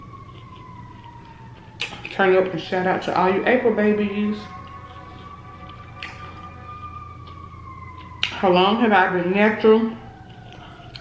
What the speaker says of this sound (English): Y'all excuse the sirens. We live by the police department.